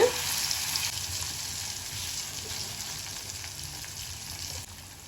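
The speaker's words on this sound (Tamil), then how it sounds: "ஆயில் நல்லா சூடாயிடுச்சு இப்போ எடுத்து வச்சுருக்கிற சேப்பக்கிழங்கு ஒன்று ஒன்றா அப்படி போட்டுக்கலாம்" Pieces of sticky taro root (seppankizhangu) drop into well-heated oil and fry with a steady, close crackling sizzle that fades slightly toward the end.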